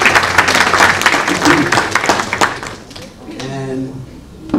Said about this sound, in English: So let's give your parents a round of applause.